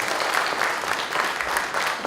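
Audience applause fills a November Buddhist dharma service for school faculty and staff, a steady, dense wash of many hands clapping at an even level throughout, with no voice rising above it.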